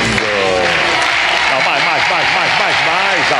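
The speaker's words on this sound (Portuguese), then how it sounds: "Não, mais aplausos." Studio audience applause on the Brazilian SBT game show Topa Tudo por Dinheiro, a loud continuous clatter of clapping with a host's voice and musical tones running underneath.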